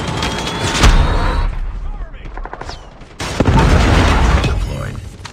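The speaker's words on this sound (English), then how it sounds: "Predator missile inbound." A Predator missile strike in Call of Duty Mobile, with loud gunfire and explosive booms that rise, fall away, then return in a heavy sustained burst of blasts and debris.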